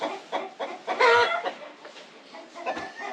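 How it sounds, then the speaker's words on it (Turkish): Chickens clucking in short, busy bursts close by in a village yard, with one louder squawking cluck partway through and a low thump near the end. "E, çekiyorum tavuk var şimdi"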